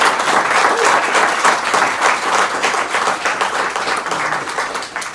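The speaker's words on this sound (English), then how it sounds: "I think we should applaud her for winning the primary." Audience applause for a primary-winning candidate at a brewery campaign event, dense steady clapping from a crowd indoors, loud and sustained, tapering slightly at the end.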